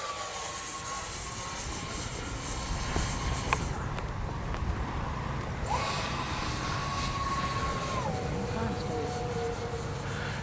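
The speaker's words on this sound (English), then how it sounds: "This is the maiden flight. I've never flown this plane before, and she's flying great, even with a cross breeze." An X-Fly SU-57 V2 RC jet on its maiden flight roars steadily overhead in a cross breeze, its turbine whine rising and falling in pitch as it makes passes, continuous and moderately loud throughout.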